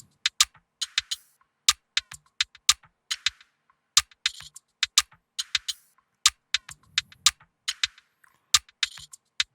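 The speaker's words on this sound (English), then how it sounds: "So it's a percussion loop," A dry percussion loop of sharp clicks and snappy hits bounces in a swung, syncopated rhythm, crisp and close with no voices.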